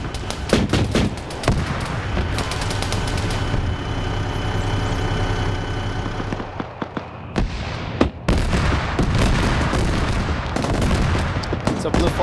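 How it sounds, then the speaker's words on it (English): An autocannon fires in a multiplayer war video game, loud rapid bursts of heavy shots crackling over a rumbling vehicle engine, with gaps and renewed volleys. "There's the auto cannon going off."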